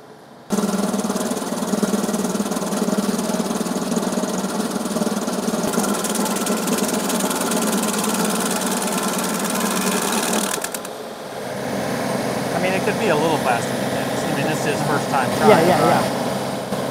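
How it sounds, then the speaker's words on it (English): Deere 2038R compact tractor with a stump grinder chewing into a hard ash stump, a loud continuous engine and grinding roar that drops briefly then resumes with rising, uneven cutting noise. "how aggressive he should be with this grinder"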